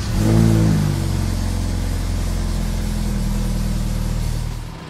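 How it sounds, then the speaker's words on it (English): BMW N20 engine cranks and fires after a high pressure fuel pump replacement, a loud starter whir and rev flare at once, then settling into a steady close idle. "let's try to start the car now."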